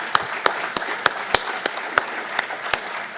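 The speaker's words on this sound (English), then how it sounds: "big round of applause for them." An audience at an evening awards session of a nicotine forum claps in a busy, even patter, with sharp individual claps standing out over a continuous wash of applause.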